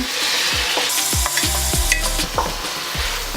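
Eggs fry in a hot pan beside other ingredients for Dominican chofan stir fry, a loud steady sizzle broken by repeated scraping knocks of a spatula stirring against the pan, close by and without speech.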